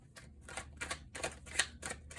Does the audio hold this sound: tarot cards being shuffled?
yes